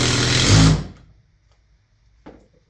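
A Makita 18V impact driver, seven years old and fully charged, runs in a short loud burst of under a second, then stops, with a brief faint click afterward.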